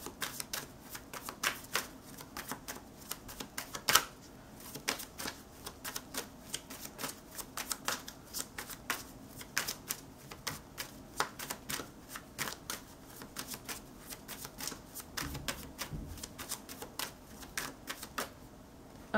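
A tarot deck is shuffled by hand, with repeated crisp riffling card snaps and soft flicks in uneven bursts, close and fairly quiet throughout, with no talk.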